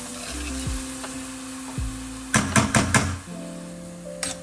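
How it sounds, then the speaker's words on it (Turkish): Soft sizzling of coarsely chopped onions frying in butter in a pot, with a few clanks and scraping stirs of a utensil against the pan partway through. "İçine iri doğradığımız 2 soğanı ekleyip kavurmaya başlıyoruz."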